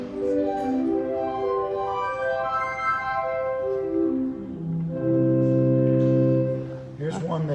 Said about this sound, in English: here's one that has the word flute on it, so it sounds like this